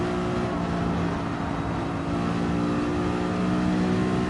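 Sustained car engine drone from the Gran Turismo 7 racing game, a steady, loud motor note with harmonic layers running throughout, no talk over it.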